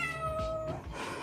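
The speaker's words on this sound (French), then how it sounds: "on va retrouver le petit chat aussi" A small house cat gives a clear, close meow, with a second one following right after it.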